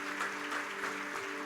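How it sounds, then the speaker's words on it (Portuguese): Applause from a church congregation during a homily, a steady dense wash of clapping that holds evenly across the moment with no voices on top. "uma salva de palmas para todos vocês"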